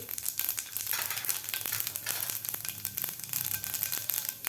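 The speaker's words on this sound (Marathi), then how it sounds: "तेल आपलं गरम झालेलं आहे यामध्ये घालायची आपल्याला अर्धा चमचा मोहरी त्यानंतर घालायचे आपल्याला अर्धा चमचा जिरे" Mustard seeds and cumin crackle and sizzle in hot oil for a Maharashtrian vatli dal tempering, a steady close frying hiss with scattered sharp pops throughout, no voices.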